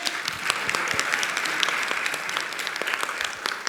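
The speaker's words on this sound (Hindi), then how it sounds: "तालियां तो बजाओ जोर से।" An audience at a Jain religious discourse in Gunayatan, Shikharji, Jharkhand claps loudly and steadily, a dense continuous wash of many hands with no talking over it.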